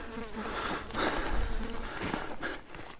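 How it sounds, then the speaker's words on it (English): A tarantula hawk wasp buzzes close past on an outdoor desert hike among big rocks, a fairly loud, wavering insect drone lasting a few seconds with no talking over it. "Tarantula hawk just buzzed me."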